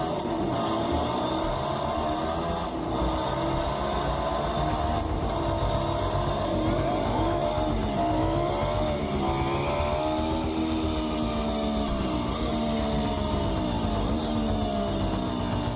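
Electric motorbike producing a simulated 250cc two-stroke engine sound, loud and close, with buzzy revs that climb and fall in waves over a sustained run and no talking.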